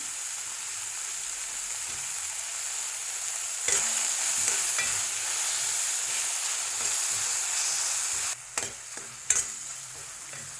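Onion and tomato sautéing in a pan with salt and asafoetida for a raw banana dal curry, giving a steady sizzle with bursts of stirring scrapes toward the end.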